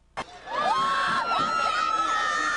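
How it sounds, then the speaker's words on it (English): A football stadium crowd at a high school game keeps buzzing after a fireworks display, giving a steady roar of cheering and shouting after one sharp crack, with faint talk mixed in. "this crowd's still buzzing from the fireworks"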